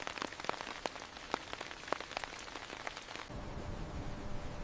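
Rain falling on a Swiss alpine village in Grindelwald: a dense patter of close, crisp drops striking surfaces, with scattered louder plinks, shifting after three seconds into a smoother, even wash of rainfall.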